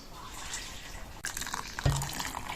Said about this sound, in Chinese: 倒点热水给它泡一下